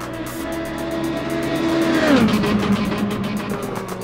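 A race car engine in Assetto Corsa, on a 1990 Bathurst pole lap, screams steadily, then its pitch drops as it brakes and downshifts approaching Caltex Chase, with a rapid mechanical buzz throughout.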